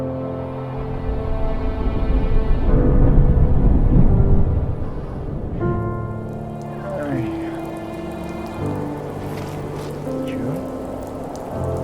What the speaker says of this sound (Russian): Дождик? Весна?